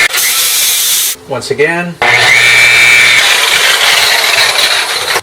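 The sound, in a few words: power sander sanding scratches on car panel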